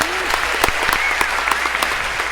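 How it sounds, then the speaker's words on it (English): A lecture hall audience breaks into steady applause at a computer science class, dense clapping sustained throughout with a few sharper claps standing out. "And a round of applause if we could for Nazari."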